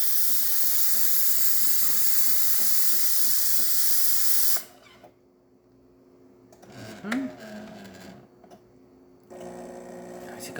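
A Jura coffee machine's steam wand steams milk for a cappuccino, a loud, steady hiss that cuts off abruptly, followed by quieter bubbling and gurgling noises and faint handling sounds.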